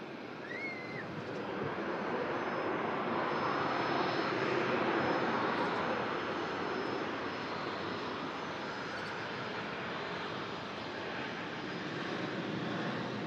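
Steady broadband roar of AirX charter jet engines at an airport, continuous and fairly loud throughout with a slight swell in the middle, no voices over it.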